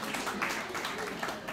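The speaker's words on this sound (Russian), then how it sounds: "Аплодисменты." A live show audience breaks into applause, a soft, continuous wash of many clapping hands heard at a distance for a second and a half, with some faint vocal murmur blended in.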